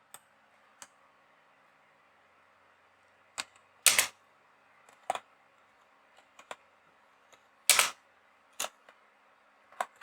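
Typing on a computer keyboard in a quiet room: sparse, separate clicks and short bursts of keystrokes, fairly close, with a few louder clusters and no talk.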